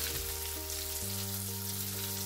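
Steady, crackling sizzle of meat frying in a hot pan, continuous and fairly close, with a faint low hum underneath.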